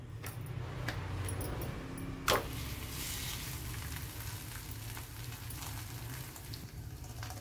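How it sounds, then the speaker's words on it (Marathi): An aloo paratha fries on a hot tawa with a quiet, steady sizzle under a low hum, broken by one sharp clatter partway through. "पराठा पण तयार आहे लाटून. आता आपण तव्यावर टाकू."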